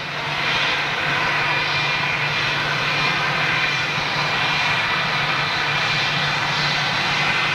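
A Boeing 747 jet at London Heathrow, lightly loaded with little fuel and no passengers, gives a steady, loud, continuous engine roar that holds constant throughout with no talk.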